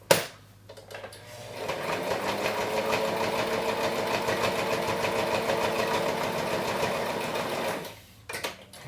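A sewing machine runs steadily for about seven seconds, stitching the seam of a fabric face mask shut, with a soft start and stop at each end and rapid, even needle chatter throughout.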